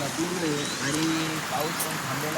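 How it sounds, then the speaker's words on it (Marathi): Heavy rain pouring down in a village, a steady dense wash of drops drumming on surfaces throughout, with a person's voice talking over it. "पाऊस लय जोरात आला आता."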